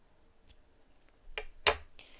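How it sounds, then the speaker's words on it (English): A pair of scissors snipping a yarn tail from a crocheted Christmas tree, a few quiet, crisp snips with a sharper cut near the end, close and isolated. "for that you'll need a pair of scissors, and you just want to cut a yarn tail"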